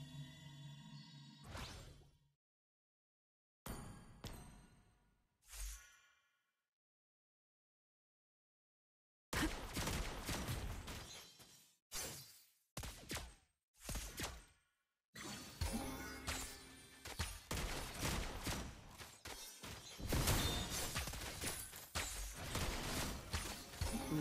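Lesley's gunshots in Mobile Legends crack as sharp, separate bursts between silent gaps early on, then crowd into a dense run of shots and impacts, loud and close, with little talk.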